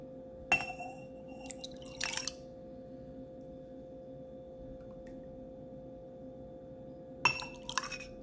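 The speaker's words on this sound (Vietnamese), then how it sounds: "Để mình trộn xong rồi thì chứ mình múc ra ly." Glass clinks as an aloe vera and mung bean drink is mixed and scooped into a glass, a few short chinks near the start and middle, then a final cluster of taps and clinks at the end over a steady low hum.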